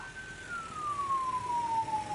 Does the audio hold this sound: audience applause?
no